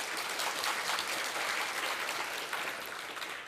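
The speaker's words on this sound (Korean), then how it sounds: "이크벌님께 큰 박수 부탁드리겠습니다." Sustained applause from a conference audience at PyCon Korea 2019 lightning talks, a dense, steady wash of many hands clapping at once, loud and close, tapering slightly toward the end.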